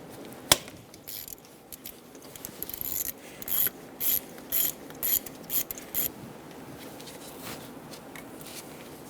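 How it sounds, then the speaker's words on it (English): A ratchet driving a T30 bit removes the screw holding the VVT solenoid on a 2011-2014 Hyundai Sonata, making a run of faint, rapid clicking bursts close by over quiet garage background, with no speech. "Using a T30 bit, we're going to remove the screw holding in the solenoid."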